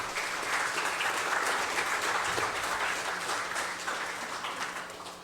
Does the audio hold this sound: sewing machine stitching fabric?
no